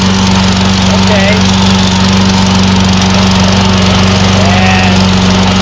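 A Black & Decker cordless battery-powered electric lawn mower runs steadily and loudly up close, a constant droning hum with no pauses throughout.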